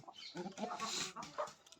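A rooster on a country farm raising native chickens gives a short run of close clucking calls, fairly faint, with a voice talking faintly nearby.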